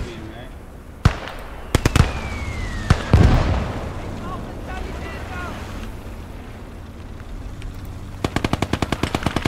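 Bursts of DS-39 machine gun fire in the World War II game Gates of Hell, Germans versus Russians: sharp loud shots and short volleys early on, then a rapid, evenly spaced burst near the end over wind and distant battle noise.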